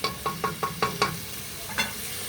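Vegetables for a beef bourguignon cooking in a pan, with a soft sizzle under a quick series of about six rhythmic stirring scrapes and one more after a pause, close and moderately loud with no talk.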